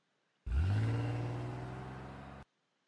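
Car in the video game Nameless: a sharp engine rev that rises quickly and settles into a steady hum for about two seconds, then cuts off abruptly, surrounded by near silence and no speech.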